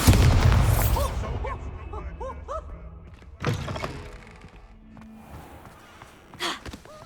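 A Bombarda blast spell from the Hogwarts Legacy video game booms out in two heavy thuds, each with a short rumbling tail, set among whooshing spell effects and faint chiming game sounds.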